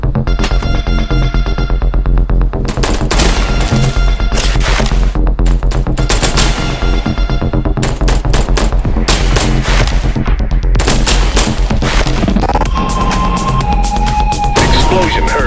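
Explosions and gunfire in the video game I Am Your Beast, dense bursts of rapid shots and heavy booms, loud and close, continuing almost without pause over a constant low rumble.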